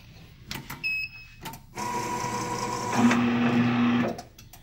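The motorised back gauge of an EC19 PRO V2 guillotine paper cutter whirs forward an inch between cuts, a steady mechanical hum of about two seconds that rises in pitch near the end, with a few short clicks before it.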